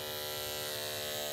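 Electric dog grooming clippers fitted with a 10 blade run steadily at close range, a constant even buzz with no pauses and no voices.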